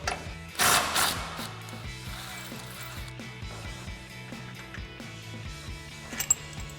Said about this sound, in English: we're gonna take both our differential mount bolts out, 22mm head and 19mm nut